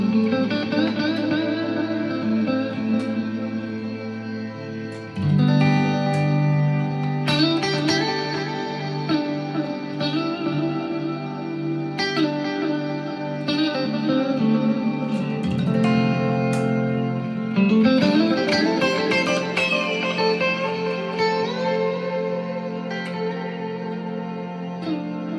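Electric guitar played through a Kemper amp with effects, sustained echoing chords and notes with heavy reverb and distortion, ringing steadily and alone with no speech.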